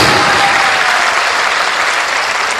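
A full auditorium audience at a poetry recital claps together in loud, sustained applause that fills the whole stretch without a break.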